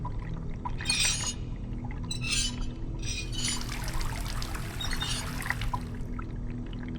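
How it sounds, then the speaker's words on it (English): A valve turned on in the horror game Asylum releases a steady flow of water, a continuous splashing and trickling rush with bursts of brighter spatter, over a low ambient hum. "I don't think it's hissing, just water flow."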